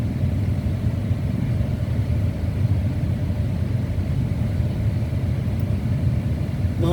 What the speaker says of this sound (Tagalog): Mahaba ang traffic.